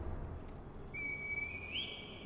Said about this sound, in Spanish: Un silbato ahí a tope